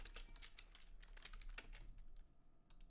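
Rapid typing on a computer keyboard, a dense run of light clicks and clatter that thins out toward the end, fairly faint with low background hum and no voices.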